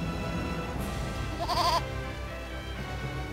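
A goat bleats once in the video game Eternal Sonata, a short wavering cry over steady game music and ambience.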